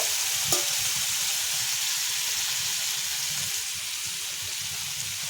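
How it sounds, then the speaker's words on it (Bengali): Cauliflower florets and potatoes drop into hot, well-cooked spice paste and fry, a steady close sizzle with a brief clack at the start. "মশলাটাকে এখানে ভালো করে কষিয়ে নিয়েছি এরপর এখানে দিয়ে দিচ্ছি ফুলকপি আর আলু"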